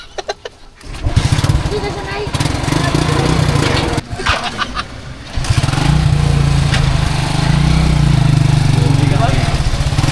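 A tuk-tuk tricycle engine runs with a rough, buzzing putter that rises and holds loud near the listener, while people talk over it.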